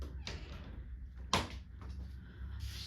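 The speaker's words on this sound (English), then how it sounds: "I'm gonna walk into the studio and close the door" A studio door is pulled shut indoors, a single sharp thud in the middle with faint rustling and movement before and after, over a low background hum.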